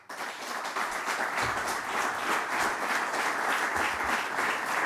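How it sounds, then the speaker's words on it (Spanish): A crowd at an outdoor Socialist Party political rally in Candás applauds steadily. The clapping is dense and sustained, moderately distant, and holds at an even level throughout. "Debo de tener por ahí atrás a un gran fan que siempre me arranca los aplausos"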